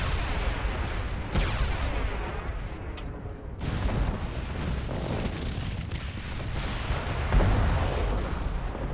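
Sustained focused weapons fire from battling mechs in MechWarrior Living Legends, a dense, rumbling barrage of booming shots rolling on continuously with sharp bursts at intervals.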